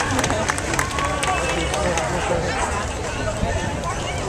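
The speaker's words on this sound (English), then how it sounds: "make some noise for the lovely Lucy" A crowd at a dog show cheers and makes noise for a three-year-old black Labrador retriever, a dense continuous roar of voices and clapping lasting throughout.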